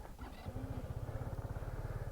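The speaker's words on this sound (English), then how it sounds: "Basically starts up like any other scooter." A 2021 Sym Joymax Z+ 125 scooter starts with a brief starter whir, then settles into a steady, close, low putter at idle, fairly quiet and alone.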